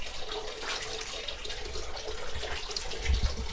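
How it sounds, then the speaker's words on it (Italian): Water drains out of freshly made butter at a mountain dairy hut in Val Calamento, Trentino, a steady close splashing trickle like a running tap that lasts the whole moment, with no talk. "Facciamo uscire l'acqua"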